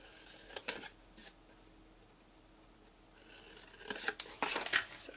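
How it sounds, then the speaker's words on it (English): Paper snips cutting patterned card stock at a crafting table, a few short crisp snipping bursts near the start and a denser run of close cuts toward the end, with quiet pauses between. "Grab my paper snips. Trim that one off and then cut up all of these."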